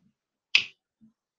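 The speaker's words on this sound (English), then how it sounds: "Go ahead, snap your fingers." A single sharp finger snap rings out close and clear in an otherwise quiet room, followed by a faint low sound.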